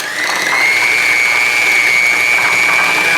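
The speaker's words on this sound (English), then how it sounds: "So I got my little hand mixer here." An electric hand mixer runs continuously, softening cream cheese for homemade cooking, giving a steady, close, high-pitched motor whine with no pauses and no talking.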